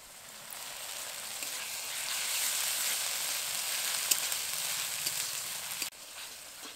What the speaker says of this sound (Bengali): এবার দেবো 4টে মাঝারি সাইজের পেঁয়াজ কুচি, পেঁয়াজটাকে ভালো করে নেড়ে নিয়েছি, নরম হয়ে গেছে।